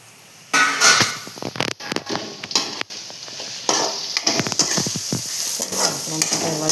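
Soya chunks roast in a pan with a spatula scraping and stirring, loud irregular scrapes and knocks over a continuous sizzle, close by.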